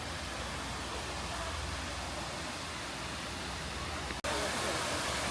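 A small geyser-style waterfall at a resort pool gives a steady, broad rush of splashing water, continuous throughout with one brief dropout near the end.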